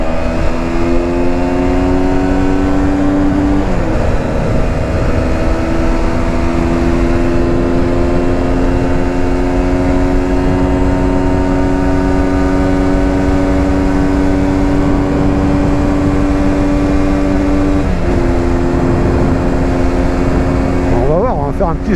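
A 2020 Aprilia Tuono 125 motorcycle's engine drones loudly and steadily at speed, holding high revs with two brief dips where it shifts gears before pulling on again, close and continuous with wind rush throughout.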